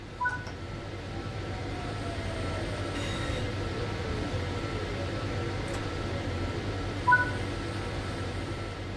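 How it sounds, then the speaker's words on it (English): A train in the Train Sim World 5 video game slowing to a stop under power brake, heard as a steady low rumble of wheels and rail noise with a faint falling squeal of brakes and a couple of brief clanks. "Bring the train to a stop by applying some brake using the power brake handle."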